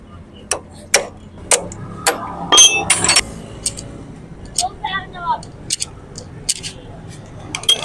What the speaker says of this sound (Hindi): ये छेने की मदद से लॉक को खोल रहे हैं।